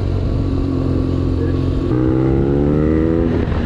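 A BMW motorcycle being ridden on the road with good road tires, its engine droning steadily and close, rising in pitch partway through as it revs up, with wind noise throughout.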